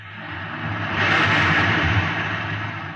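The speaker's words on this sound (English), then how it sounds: "You can hear the roaring of the gases in the test chamber behind me." Steady roar of gases from a rocket reactor engine under test in a test chamber, staged as a radio-drama effect: a dense broadband rush that swells slightly in the middle, with a low rumble underneath and no voices.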